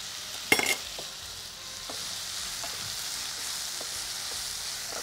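Bitter gourd and curd stir-fry in ghee in a pan with a steady, close sizzle. A sharp utensil clatter sounds near the start, and no one speaks.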